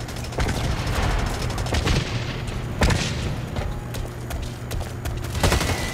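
Rapid gunfire in the video game Blacklight, with repeated sharp bursts and booming shots crackling loudly over a dense, busy backdrop for the whole stretch.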